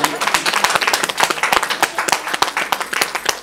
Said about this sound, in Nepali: जोरदार ताली सहित सम्मान गर्नु